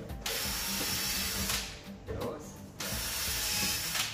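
A ratcheting, clicking mechanism works in bursts, close up, with short pauses between runs of rapid mechanical clicks as screws are driven into an integrated fridge door.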